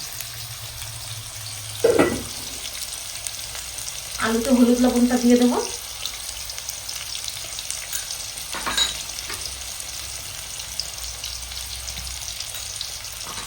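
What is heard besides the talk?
potatoes frying in a pan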